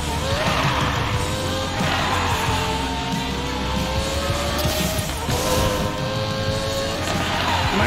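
Drag racing car in Need for Speed Payback, its engine roaring loud and continuous throughout with rising revs and repeated tire skids and squeals layered on top.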